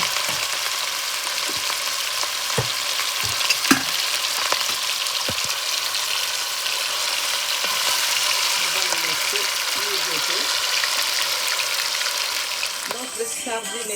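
Minced meat fries in a pan for a bean and ground beef dish, giving a continuous crackling sizzle with scattered stirring knocks and a brief burst of movement near the end.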